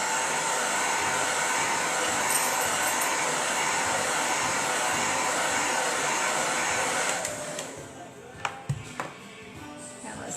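A handheld heat gun or dryer blows steadily on wet paint on a wooden sign, a loud continuous whoosh for about seven seconds before it switches off, leaving quieter workshop handling noises and a few light clicks.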